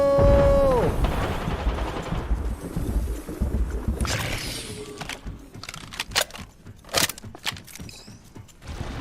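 Video game gunfire with automatic bursts and sharp shots, plus grenade blasts, loud and dense throughout with a brief tonal game sound at the start.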